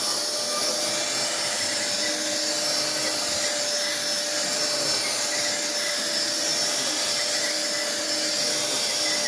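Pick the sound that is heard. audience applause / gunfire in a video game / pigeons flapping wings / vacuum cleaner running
vacuum cleaner running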